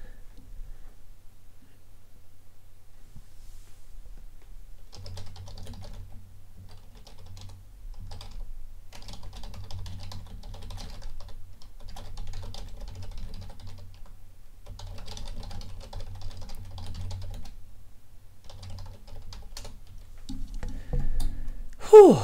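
Someone types steadily on a computer keyboard during a livestream, with close, busy clicking in bursts and short pauses. A low hum runs underneath.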